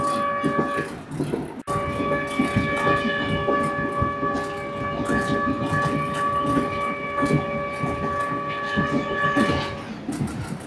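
A passenger train in Cambodia rumbles and clatters along the rails, with a steady sustained horn tone carried through the loud onboard rolling noise for most of the stretch, and voices faintly underneath.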